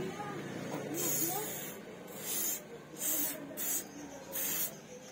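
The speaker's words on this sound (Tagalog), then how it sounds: "Spray natin ganito." Dishwasher cleaner sprayed onto an old motorcycle handgrip in several short hissing bursts, close and fairly faint, with brief pauses between sprays.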